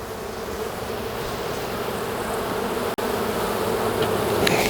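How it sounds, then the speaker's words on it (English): A dense swarm of honey bees buzzes steadily and close around a hive box, a constant droning hum with no voices. "just got a bunch of bees on the bottom of this box here beside us"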